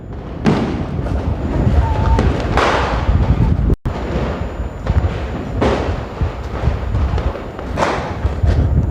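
Diwali night in Roorkee after the Lakshmi puja, with fireworks and bombs going off across the city: repeated heavy booms and crackling bursts roll in one after another, loud and reverberant over a constant wash of distant blasts.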